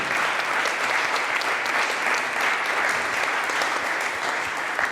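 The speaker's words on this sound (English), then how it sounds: "So I would like to ask one biggest round of applause for them" An audience at a sustainability talk in Amsterdam breaks into sustained, dense applause, many hands clapping steadily and loudly throughout with no voices.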